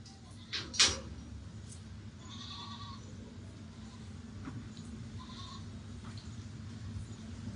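Goats on a farm bleat while waiting for their feed: a short loud cry near the start, then a quieter stretch with soft shuffling and faint knocks.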